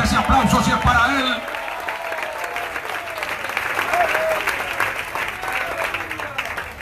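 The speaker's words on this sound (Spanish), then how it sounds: "Denle fuerte ese aplauso si es para Él." A church evangelistic campaign crowd breaks into loud, sustained applause that swells and then thins out, with a few scattered voices in the room.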